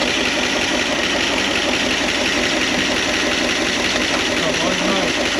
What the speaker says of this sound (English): let's go ahead and see if the PTO fires up, and then let's see if the bed dumps